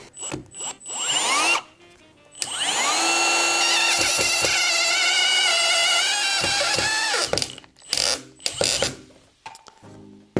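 A Milwaukee M18 FPD2 drill-driver on first speed and the first clutch torque setting, driving a screw near an edge. It whines steadily and loudly for about five seconds, with short bursts before and after and no talk.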